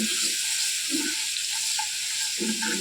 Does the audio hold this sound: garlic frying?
yes